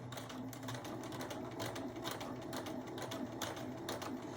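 Sewing machine stitching along the edge of a fabric hem, a steady rapid mechanical whir with a dense ticking needle rhythm running without pause, close and moderately loud.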